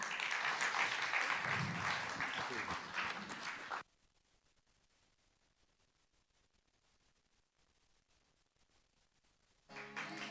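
Loud audience applause and cheering greet a performer taking the stage at a live music night at The Bedford, filling the first four seconds before cutting off to near silence.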